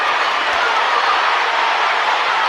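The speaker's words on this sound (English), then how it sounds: "And the crowd loving it in here." Boxing crowd at the Tony Harrison vs Edward Ulloa Diaz fight, a dense, loud, continuous roar of cheering and clapping filling the arena with little else audible.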